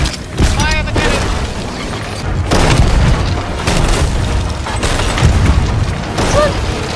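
Repeated deep booms from game cannon fire rumble throughout, mixed with mechanical clatter and voices talking over the action.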